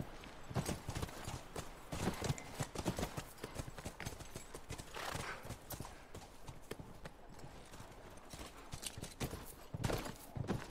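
Horse hooves clip-clop steadily in The Last of Us, a close, regular trotting rhythm with occasional snorts over ambient outdoor game sound.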